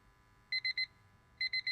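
Timer alarm in the game Retail Hell, two bursts of three sharp high electronic beeps each, crisp and close over a quiet background hum.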